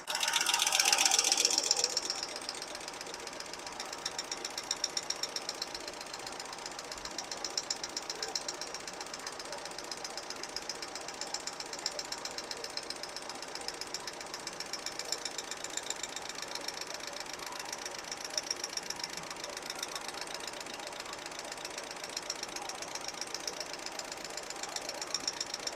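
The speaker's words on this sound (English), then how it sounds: "We'll get it started up, and we'll adjust some rocker arms." Running engine with a noisy rocker arm, a rapid metallic ticking knock over a steady idle that starts with a loud burst and then settles, with some voice faintly in the background.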